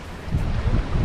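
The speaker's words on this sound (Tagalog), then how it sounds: "Lakas ng alon dito mga bro." Strong ocean waves surge and crash with a steady low roar, buffeted by wind rushing across the microphone.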